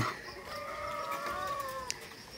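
Backyard chickens, including a Bisaya native breed, clucking and calling with a drawn-out rising cry and a short sharp squawk, close and clear over a faint outdoor hum.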